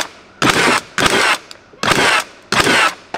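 RYOBI 18V cordless framing nailer in slam fire mode, driving nails in four loud, rapid bursts of sharp repeated bangs, each lasting about half a second with short pauses between, close and unaccompanied by speech.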